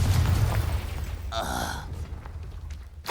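A Confringo spell blast in Hogwarts Legacy bursts out as a short fiery pop amid rumbling combat noise, fading into quieter game ambience.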